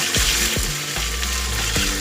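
Ginger and green chili paste spattering in hot oil for a soya kofta curry, a steady close sizzle broken by a few sharp pops and spits, with no talking.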